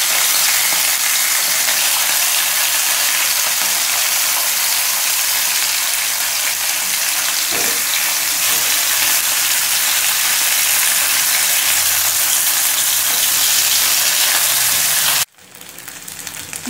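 Tilapia pieces rubbed with salt and turmeric fry in hot mustard oil in a pan, a dense, steady sizzle that holds loud and even for about fifteen seconds before cutting off abruptly near the end.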